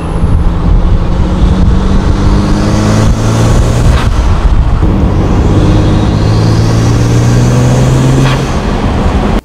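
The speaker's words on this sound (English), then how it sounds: "The sounds this car makes are unreal. The turbo noises, the exhaust," A BMW 335i xDrive with turbo and exhaust sounds pulls hard, a loud, close engine note rising through the gears with a brief shift dip and rasping exhaust, turbo whoosh layered over road noise.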